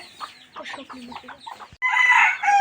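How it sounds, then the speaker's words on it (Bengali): Hens cluck in a short choppy series, then a rooster crows loudly nearby. "এখানে একটি শক্তি মুরগিও আছে।"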